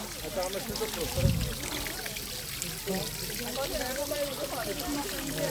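A small forest brook trickles and gurgles steadily nearby, a soft continuous watery babble with a person talking over it.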